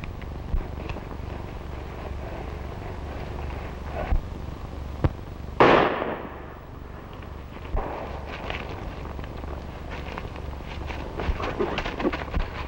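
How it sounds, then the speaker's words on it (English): A single gunshot rings out in an old western film, one sharp crack followed by a fading echo, heard over a steady soundtrack hiss and faint background noise. "I tell you, I heard a shot."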